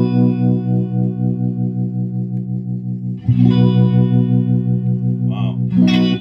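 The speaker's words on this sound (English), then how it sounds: "This has a very special trim circuit, and you can hear there's a phasing effect." A sustained, distorted guitar tone through a 1961 Fender Showman amplifier's trim circuit, with a swirling, sweeping phase effect, loud and steady, with a couple of brief bursts near the end.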